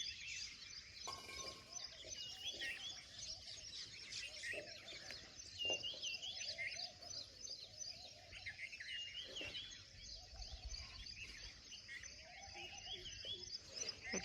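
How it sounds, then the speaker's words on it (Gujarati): Birds chirping and tweeting in a village at about six in the morning: many small calls overlapping steadily at a moderate distance, fairly quiet, with a faint insect hum beneath. "પક્ષીઓ બોલતા હોય"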